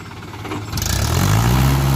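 A Mahindra tractor stuck with an empty trolley, its engine rumbling loud and close and then rising into a heavy, sustained strain as the throttle opens.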